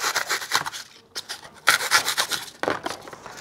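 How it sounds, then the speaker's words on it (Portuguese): A knife saws through a block of styrofoam during orchid repotting, with bursts of close, scratchy, squeaking rubbing strokes broken by short pauses. "Então vou cortar o isopor agora."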